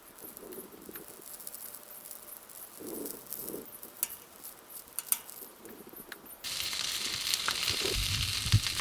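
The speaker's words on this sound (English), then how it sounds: "Alright, so we got the sausage going on that side." Sausage cooking on a two-burner portable propane griddle, a soft continuous sizzle and patter nearby that swells louder toward the end, with no talking.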